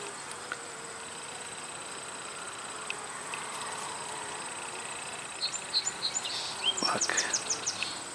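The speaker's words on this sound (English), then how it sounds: "Look at all those baby bees." Soft, constant buzzing of many honeybees on a hive frame close by, with faint high chirps rising near the end over a quiet background.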